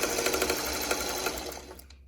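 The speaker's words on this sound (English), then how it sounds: "sew a few together" A sewing machine runs steadily, stitching fabric squares together with a quarter-inch seam, its rapid rhythmic chatter loud and close before tapering off at the end.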